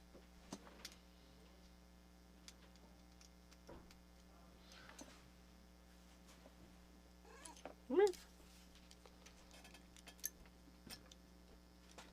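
A single short cat meow rises near the end of a quiet indoor scene, over faint background hum and scattered small ticks and clicks.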